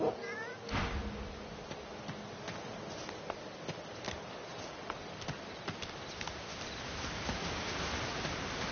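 A cat meows in the fantasy role-playing game Divinity: Original Sin 2, one short cry early on over a steady bed of game ambience with faint clicks and soft thuds.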